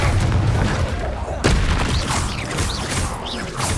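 A Confringo blast spell cast in the video game Hogwarts Legacy lands as a sharp, booming burst amid rumbling, crackling game ambience, followed by lingering whooshing magical effects.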